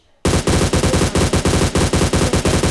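Rapid automatic gunfire in the mobile battle royale game PUBG Mobile, a loud sustained burst of evenly spaced shots starting abruptly after a moment of quiet.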